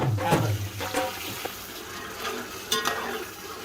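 Mutton yakhni stock is poured from a container into a pulao pot: a splashy, gurgling pour with a couple of metallic clinks and a brief louder slosh near the end.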